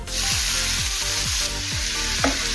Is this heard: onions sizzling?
yes